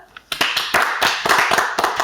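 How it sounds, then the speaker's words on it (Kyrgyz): Close, uneven handclapping for teams at a comedy-show game round with a folk ensemble, loud separate claps in an irregular rhythm after a quiet start, with no speech over it. "Эмесе ар бир командага тең кол чабуулар"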